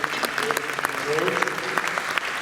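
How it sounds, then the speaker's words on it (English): An audience at a Band of Brothers 20th anniversary event applauds panelists, loud sustained clapping with a few voices rising through it. "Round of applause for the panelists."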